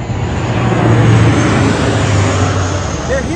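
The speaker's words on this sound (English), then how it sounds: "as I wait for this plane to go by" A fixed-wing plane passes overhead at an off-grid outdoor spot, a loud, steady broadband engine roar that swells slightly near the middle and holds throughout, with no talk.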